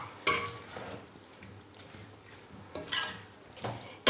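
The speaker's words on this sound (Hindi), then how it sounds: "इनको भी अच्छे तरीके से 1 मिनट तक फ्राई करते हैं इसके अंदर।" Turnips fry in a pan, giving a low sizzle under intermittent clinks and scrapes of a spoon against the metal, with louder knocks near the start and end.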